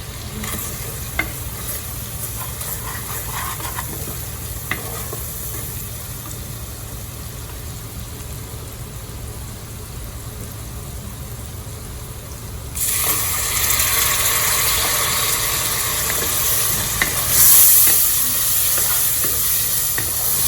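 Spices are stirred into a frying pan of oil for a halwa puri and chana dish, with a steady sizzle and spoon scrapes that grow louder and brighter partway through, no talking.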